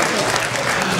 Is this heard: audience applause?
yes